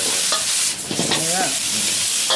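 Stir-frying in a wok at a Thai food stall, seasoned with oyster sauce and fish sauce, with a continuous loud sizzle and scraping stirs through a short burst.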